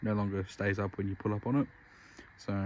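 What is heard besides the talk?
No everyday noise stands out behind the speech.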